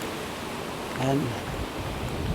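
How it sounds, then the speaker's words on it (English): Gusting wind outdoors on a cold early morning walk in Dartmouth, heard as a steady broadband rush against the microphone, with a brief spoken word partway through. "Every once in a while I get a gust of wind."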